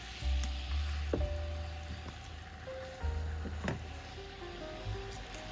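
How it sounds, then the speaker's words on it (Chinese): Thick pieces of chicken thigh fry in a pan, giving a close, steady sizzle with occasional louder bursts and spatters, and no one talking. "鸡腿肉比较厚，所以建议多烧一会儿"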